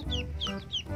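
Chickens cluck among ducks, several short bright calls in quick succession, close and moderately loud.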